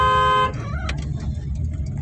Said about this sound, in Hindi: धीरे धीरे हॉर्न मारो